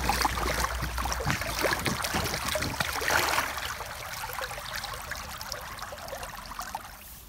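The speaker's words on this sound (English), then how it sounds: "place the net in the river downstream, and we just disturb the bottom of the river like this" Stones on a river bottom are kicked and disturbed upstream of a held net while a stream flows past, giving a steady, close rushing wash with gritty scuffs and splashes over the first few seconds, then a softer, even flow.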